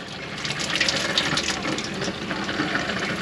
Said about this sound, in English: We've got water coming through.